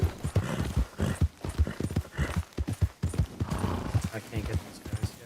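Horse hooves galloping in the video game Red Dead Redemption 2, a rapid rhythmic clip-clop with an occasional whinny, steady and fairly close, while a voice talks over it.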